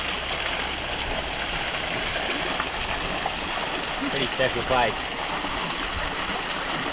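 A waterfall pours inside a chasm, a steady broadband rush of falling water filling the space throughout, with a person speaking briefly over the roar.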